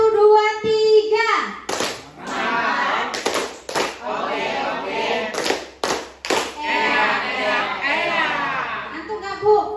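Children in a classroom in Tanggamus, Lampung clap out a counted one-two-three pattern: a few crisp bursts of claps stand out between lively kid chatter and an adult's spoken cues.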